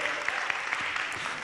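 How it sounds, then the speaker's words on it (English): Congregation applause at a church service, a brief, soft burst of clapping from many hands that stays fairly distant. "Let's give them a round of applause as well."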